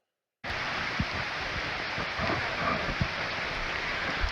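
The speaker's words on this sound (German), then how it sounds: "diesen Bach zu überqueren" A mountain stream rushes through a rocky gorge on the Lasithi plateau in Crete, a steady broadband roar of flowing water close by, starting suddenly and continuing unbroken with occasional louder splashes.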